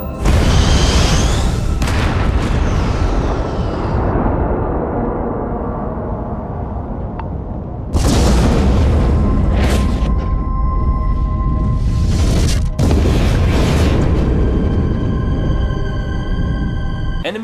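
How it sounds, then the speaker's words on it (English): A Star Destroyer blowing up in the background in Starfield, heard as deep booming blasts and rumbles, with sharp bursts near 8, 12.5 and 13.5 seconds over continuous loud low roar and ringing tones. "as I was leaving the Star Destroyer I just stole from, it exploded in the background"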